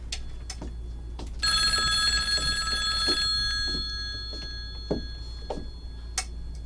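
An old-style telephone bell rings in one long burst, over a background of steady low hum and scattered ticking knocks.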